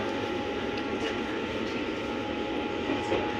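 A passenger train runs between Chaozhou and Kaohsiung in Taiwan, heard from inside as a steady rumbling, rolling drone with a faint tonal hum throughout.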